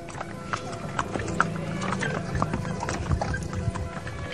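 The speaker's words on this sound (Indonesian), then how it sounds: "kereta kuda." Hooves of a horse pulling a carriage clip-clop in a steady rhythm at moderate distance, with a brief whinny and background music, while voices narrate a children's story.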